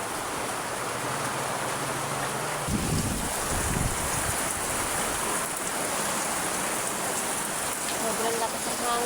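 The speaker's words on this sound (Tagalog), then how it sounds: "Sobrang lakas ang hangin." Strong wind and rain roar steadily outdoors during a storm, a loud dense wash of noise with gusty rumbles buffeting the microphone, and a brief low thump partway through.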